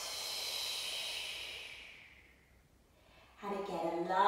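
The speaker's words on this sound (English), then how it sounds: "take a nice breath in. Expanding the ribs and the lungs and then breathing out." A long, deep breath is drawn in and slowly released during a contemporary dance class, an airy hiss that fades away before a voice begins speaking.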